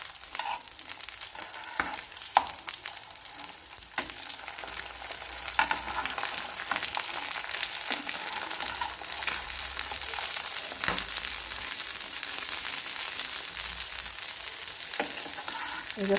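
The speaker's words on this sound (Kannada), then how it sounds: "ಎರಡು ಕಡೆ ಆ ಕಡೆ ಈ ಕಡೆ ಎರಡು ಕಡೆ ಫ್ರೈ ಮಾಡಬೇಕು." Masala-coated fish frying in a pan, turned to cook both sides: a steady hissing sizzle of hot oil with occasional sharp taps and scrapes, close and unbroken by speech.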